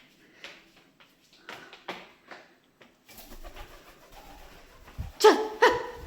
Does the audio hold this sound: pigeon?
yes